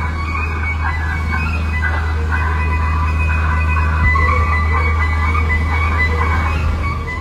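A fish truck parked on a ferry deck gives a steady low engine drone, with a constant hum from the ship's machinery underneath, loud and continuous with no break.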